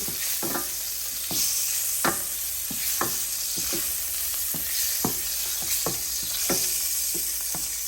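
Butter melts in a pan with a continuous close hiss and sizzle, punctuated by regular sharp taps and scrapes from a utensil moving it around.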